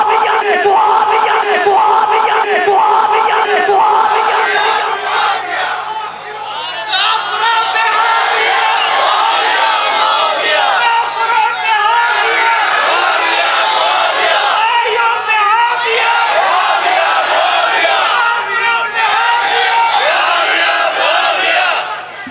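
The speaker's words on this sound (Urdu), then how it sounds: "3 جگہ سے نعرے لگ رہے ہیں، اتنے کیوں لگا رہے ہو؟" A large crowd at a Sunni religious speech gathering chants slogans in loud rhythmic unison, repeated call-and-response shouts swelling and continuing for the whole stretch.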